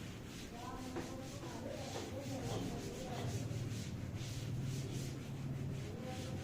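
Chalk or marker writing being wiped off a classroom board during an ICSE Class 10 physics lesson on focal length, a steady rubbing scrape lasting several seconds with faint room noise underneath.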